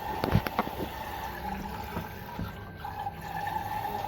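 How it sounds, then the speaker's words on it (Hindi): Water running and filling from a pump-fed supply, likely a household motor, with a steady gushing flow and a few splashy knocks in a kitchen, no talk. "पानी की मोटर भी लगी हुई है साथ में"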